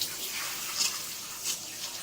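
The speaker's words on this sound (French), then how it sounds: "je vais mouiller les cheveux à l'eau tiède" Lukewarm water pours from a tap over a child's hair, a faint, steady, hissing flow with small splashy surges, close and unaccompanied by speech.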